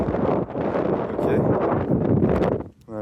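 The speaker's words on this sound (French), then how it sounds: "Il y a du vent, il va pleuvoir." Gusty wind buffeting the microphone outdoors on a cold mountain slope of Sørøya, a steady loud roar throughout with a brief dip near the end.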